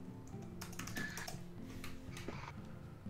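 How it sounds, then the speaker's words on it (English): Quick, light clicking of keys on a computer keyboard, a short burst of soft taps close by over a steady low background hum from a game session. "And my keyboard is not working."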